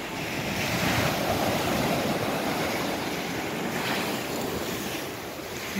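Sea waves roll onto Cherai Beach in Kerala at sunset, a loud, unbroken roar of surf with wind buffeting the microphone and no voices.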